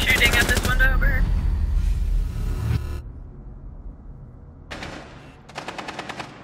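Automatic gunfire in a video game, with a loud close burst first, then two shorter rattling bursts after a quiet gap, while a player talks over the start.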